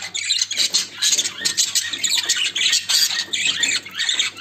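Pet bird squawking loudly and continuously near the microphone, harsh repeated calls with no pauses and no voices.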